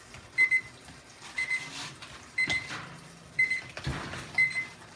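A kitchen oven timer going off during Thanksgiving cooking, a repeated electronic beep sounding roughly once per second in five evenly spaced bursts, moderately loud over faint kitchen background noise.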